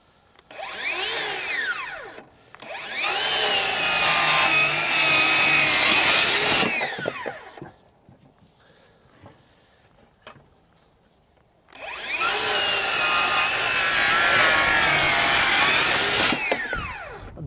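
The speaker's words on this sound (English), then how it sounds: "So cutting 2x material, no problem, even at a 45." Ryobi One+ HP 18V brushless 7-1/4" circular saw ripping through 2x lumber at a 45-degree bevel: two loud, sustained cuts of several seconds each, with a shorter burst first and a quiet pause between, whining motor over wood-chewing blade noise.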